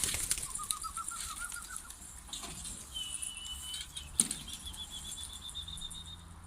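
A pigeon's wings flap in a soft, fluttering burst as it arrives, with faint chirps and scattered background bird calls in a quiet outdoor setting.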